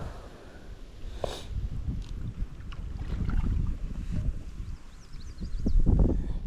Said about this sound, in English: Boy, wind's catching this.